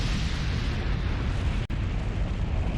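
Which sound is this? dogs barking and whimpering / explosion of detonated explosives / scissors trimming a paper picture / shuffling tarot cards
explosion of detonated explosives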